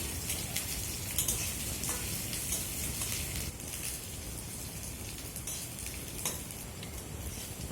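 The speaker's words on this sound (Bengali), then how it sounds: "এখন আমি আলুগুলো এই তেলের মধ্যে দিয়ে ভেজে নেব আলুগুলোকে আমি মিনিট দুয়েকের মতো নেড়ে চেড়ে ভেজে নেব" Potatoes fry in hot mustard oil while being stirred, making a steady, dense sizzle that runs the whole time without pause, fairly loud and close, with no voices over it.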